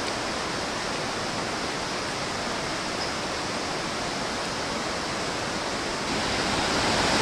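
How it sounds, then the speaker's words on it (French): A 350-metre waterfall on Nuku Hiva roars as a dense, steady rush of falling water, loud and unbroken from start to finish, swelling slightly near the end, with no voices. "on ne voit pas la totalité de la cascade qui fait 350 mètres de hauteur"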